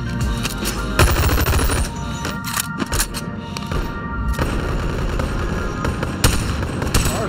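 Hard light weapon firing in the VR game Boneworks, loud rapid bursts of shots crackling continuously for several seconds, dense and close with brief lulls between volleys.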